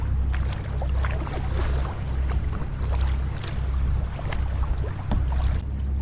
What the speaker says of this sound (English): We're paddling 16-foot touring kayaks today with dual bulkheads and rudders